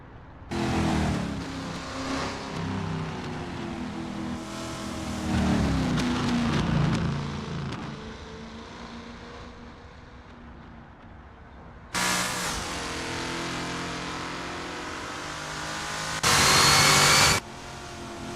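A Lola T70 race car engine revs and accelerates at Interlagos 1975 in Assetto Corsa, rising and falling in pitch across several gear changes, with a sharp louder burst near the end.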